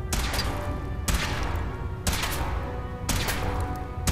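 Gunfire aimed at a power armor suit in Fallout 4, heavy shots landing about once a second in four evenly spaced bursts, each a loud crack followed by a rumbling decay, with no talk.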